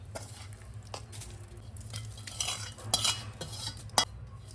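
Roasted masala is being mixed into poha chiwda in a large cooking pot with the gas off. Soft scraping and rustling stir strokes sound close, with a few light metallic clinks and one sharper knock near the end.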